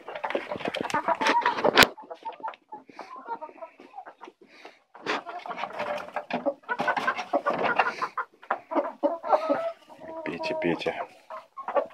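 Kotlyarevskaya breed chickens, hens with a rooster, cluck and chatter nearby in a busy, irregular stream, with a person talking among them.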